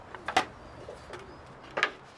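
Pigeons coo in a few short, soft bursts at an indoor or sheltered spot, with quiet gaps between calls and a faint background hum.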